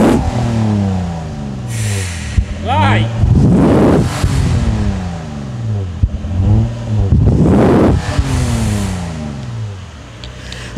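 A Pajero V6 engine revs hard through the exhaust in repeated rising bursts, roaring up and dropping back, close and loud, with a short shout before.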